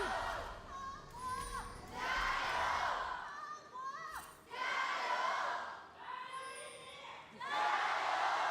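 A crowd at an esports arena cheers in loud swelling waves as a League of Legends match begins, with shouts and whistles rising and falling between brief lulls.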